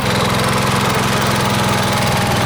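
A riding lawn mower engine runs nearby with a loud, steady chugging drone and rapid even pulsing. No voices are heard.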